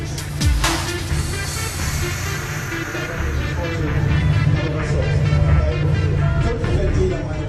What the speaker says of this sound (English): the roaring of the engines wasn't noise, but the finest sound in the world